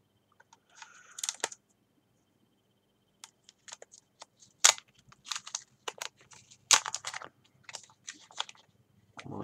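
Masking tape peeled off a painted Nerf blaster in short crackly rips and tearing bursts, several separate pulls with pauses between, close and fairly quiet.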